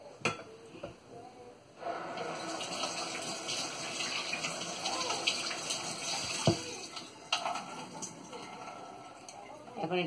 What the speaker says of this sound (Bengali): এটার মধ্যে ঢেলে নিব হ্যাভি হুইপ ক্রিমটা।